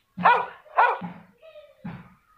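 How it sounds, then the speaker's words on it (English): A dog barks close by with two sharp barks, followed by a brief high whine and a third softer bark, alone without other sounds. "Dog."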